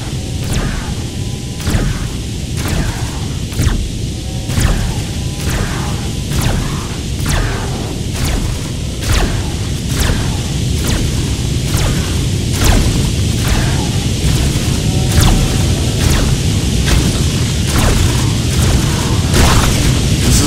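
Shotguns and lasers firing in the video game Beast Battle Simulator: loud, rapid, evenly spaced blasts with whooshing bursts repeat nonstop over a dense, roaring battle din.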